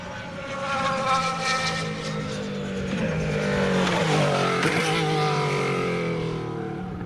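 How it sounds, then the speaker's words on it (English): A 2014 Caterham Formula One car driven by Marcus Ericsson laps during Jerez pre-season testing, its engine note rising as it approaches, then dropping in pitch as it sweeps past and fades into the distance. "so that's Marcus Ericsson's first lap out in the Caterham"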